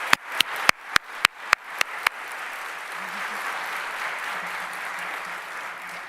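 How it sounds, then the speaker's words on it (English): Audience applause for award finalists at a presentation ceremony: several sharp, loud individual claps open, then a steady wash of crowd clapping continues evenly to the end. "give all of the finalists a round of applause"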